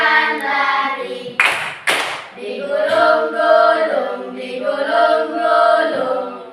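Two sharp hand claps ring out close by as part of a classroom children's song. A woman's sung melody follows clearly over the rest.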